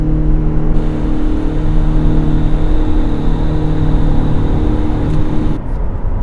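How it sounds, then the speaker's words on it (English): A 2021 Mitsubishi Outlander SEL PHEV in sport mode accelerates hard, its steady engine drone and whir heard close and loud from inside the cabin, continuous throughout with no talking. "putting it in sport mode. Hard on the throttle."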